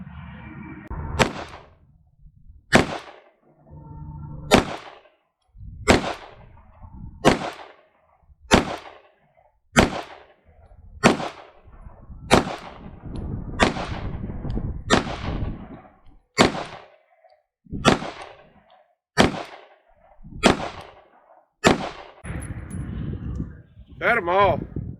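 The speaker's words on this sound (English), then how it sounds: "Alright, we got 17 rounds of CCI Blazer, 115 grain loaded up." FN 509 Tactical pistol firing 115 grain CCI Blazer rounds at a range: about fifteen sharp, loud shots in a steady, evenly spaced string, each with a quick decay.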